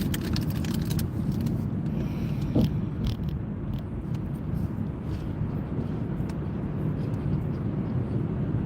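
A car drives along at a steady pace, its engine and road rumble a continuous loud low drone from inside the cabin, with a few light rattles and clicks over it and no talking.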